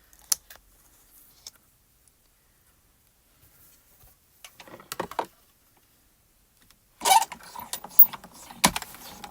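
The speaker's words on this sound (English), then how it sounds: "So the first thing I'm going to cut here is this adhesive." Die-cutting machine pressing a poinsettia die through an adhesive sheet, heard as scattered faint clicks and ticks, then a louder burst of crunching, ratcheting mechanical noise near the end.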